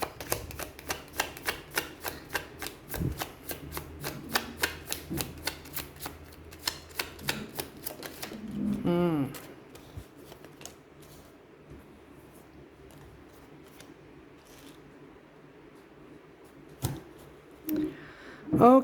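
Tarot cards are shuffled in a quick series of crisp riffling taps and flicks, close and rapid for several seconds, then quieter handling with a few isolated card snaps.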